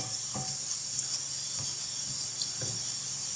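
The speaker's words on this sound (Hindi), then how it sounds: "अब आँच थोड़ी धीमी करें, बस मीडियम आंच पे आप प्याज को ब्राउन करेंगे" Onions browning in a pan over medium heat give a steady, bright sizzling hiss throughout, with a few soft clicks and pops from the pan.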